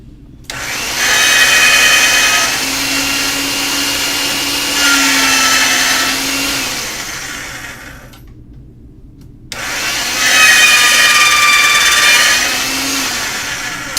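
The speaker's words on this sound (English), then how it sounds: "I'm going to give it another run on the pasta machine" A pasta machine rolls a sheet of dough in two long passes, a steady grinding, rumbling crank noise with a faint squeak, separated by a short silent gap, close and alone.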